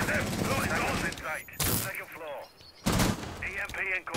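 A few sharp bursts of gunfire ring out in an esports video game match, with two loud volleys standing out. Excited commentary continues over and around the shots.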